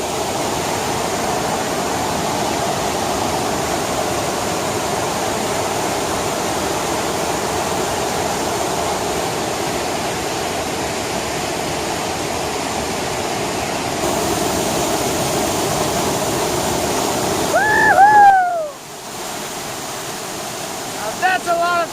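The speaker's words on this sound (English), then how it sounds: "That's a lot of freaking water or what?" Loud, steady roar of a huge volume of rushing water in a forest after heavy rain, a dangerous torrent or waterfall filling the whole clip, with a brief voice or bird-like call near the end.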